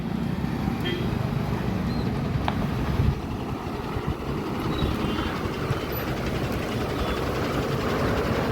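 A truck's engine drones in a steady, loud, low rumble while it is driven on a trip from Botad toward Punjab, with people talking over the constant mechanical noise.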